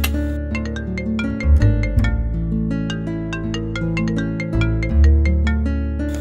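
A phone ringtone plays a bright, bouncy melody of quick repeated notes over a sustained low tone, continuing without pause.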